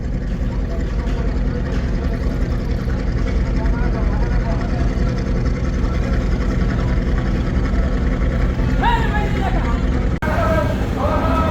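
Passenger launch MV Parabat 18 arriving at the Barishal river ghat, a constant loud engine rumble with a crowd babbling over it and a few horn-like tones near the end.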